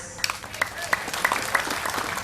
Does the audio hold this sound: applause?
yes